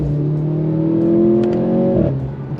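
Stock four-cylinder Mercedes C43 AMG engine revving hard with a loud, steady exhaust drone that holds, then drops sharply as the revs fall, heard close and alone.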